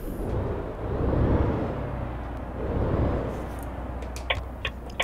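Inside the cab of a Ford F-MAX truck, the engine idles as a low, muffled rumble with gentle swells, followed by a few soft clicks near the end.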